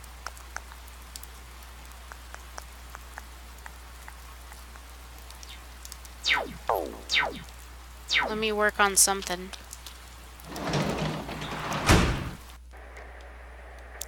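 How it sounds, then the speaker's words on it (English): Steady rain from the Persona 4 Golden video game falls throughout, a constant hiss under a person talking, with a few louder bursts near the end. "'Cause it's raining."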